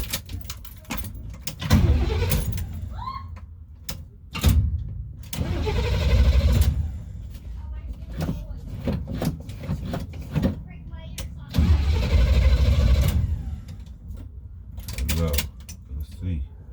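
An engine cranks and tries to catch after a distributor, coil, module, cap and rotor replacement, with repeated bursts of starter grinding separated by pauses, close by, and people talking between attempts.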